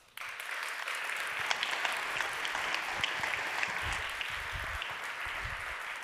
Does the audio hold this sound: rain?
no